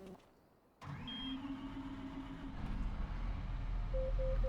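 A John Deere 7R tractor engine cranks and fires up in Farming Simulator 25 after a quiet start, then settles into a steady, rising mid-pitched idle.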